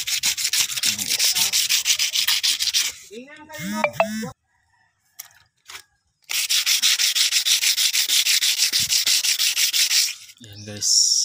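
Fiberglass repair being hand-sanded with sandpaper: two long stretches of rough, rhythmic rubbing strokes, close and loud, broken by a quiet pause where a rooster crows nearby.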